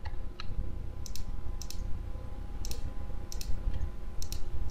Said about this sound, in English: So this time use Shift and click.